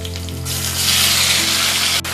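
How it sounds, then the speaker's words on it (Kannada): Onion and tomato frying in hot oil for idli sambar, a loud, steady, close sizzle that swells as the vegetables hit the pan and keeps going without a break. "ಸೊ ಇದರಲ್ಲಿ ನಾವು ರಫ್ ಆಗಿ ಏನು ಹಚ್ಚಿದ್ವಲ್ಲ ಈ ಒಂದು ಈರುಳ್ಳಿಯನ್ನು ಹಾಕೊಳ್ಳುವ"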